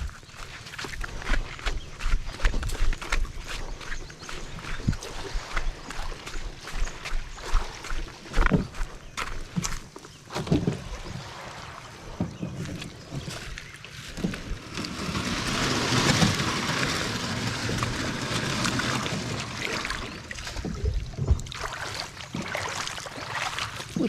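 A small wooden bangka used for fishing rocks and moves on the water, with irregular knocks, splashes and creaks close by and a wash of water noise that swells midway.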